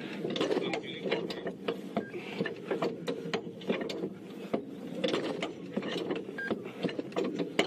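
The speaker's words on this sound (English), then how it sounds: "I can now lower down the jack so that the tire has pressure and doesn't just spin." Car jack being lowered during a tire change on a safari vehicle, giving steady rhythmic mechanical clicking and ratcheting, close and fairly even.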